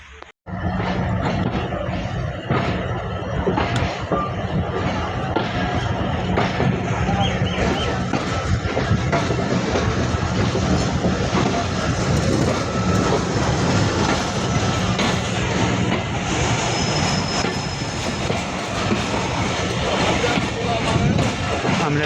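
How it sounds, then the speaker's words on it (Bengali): The Barendra Express pulls out of Hili railway station, a loud, continuous rumble of train and rail noise that holds steady from start to finish with no break. "আমরা ছেড়ে যাচ্ছি হিলি রেলওয়ে স্টেশন।"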